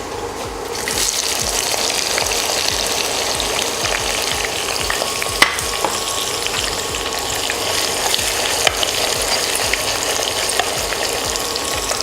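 Four medium onions, sliced, fry in hot oil for prawn biryani, producing a loud, continuous sizzling hiss that holds steady throughout with faint stirring underneath.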